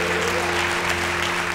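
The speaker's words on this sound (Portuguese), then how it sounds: "Se você acredita, aplaude o nome do Senhor" A church congregation applauds during a sermon, dense continuous clapping filling the short stretch at a steady loud level.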